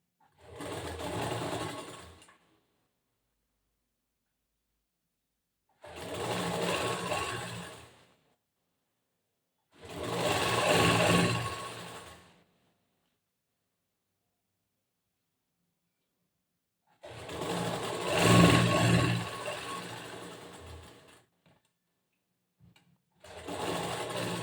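A sewing machine stitches a cross-cut blouse front panel in four separate runs of a few seconds each, with near silence between them, close and steady.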